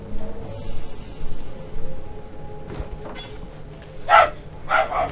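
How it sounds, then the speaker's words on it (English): Dogs bark in Path of Exile gameplay, with a couple of sharp bursts near the end over a low, rumbling game background; no talk. "Oh, and the dog's gonna freak out."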